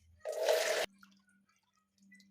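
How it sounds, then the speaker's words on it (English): A short burst of running water pours steadily over raw chicken for about half a second, then cuts off abruptly, leaving a faint low hum. "I'm gonna add some water to cover the chicken"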